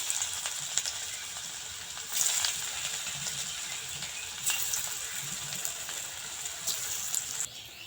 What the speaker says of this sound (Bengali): বাকি যে চপটা আছে একইভাবে ভাজা লাগবে।